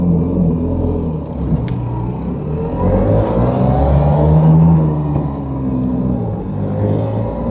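Small Daihatsu Fellow Max car pulling away from a standstill, a steady low engine rumble and drone building gently as it moves off, heard from inside the cabin with no talking.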